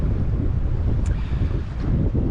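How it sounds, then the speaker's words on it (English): Blustery wind roars across a sailboat in the Great Harbor of Mount Desert Island, Maine: a loud, steady buffeting rumble against the microphone with a wash of water beneath, continuous and unbroken, with no voices. "with the wind blowing us toward them, that basically gives me one chance to get in"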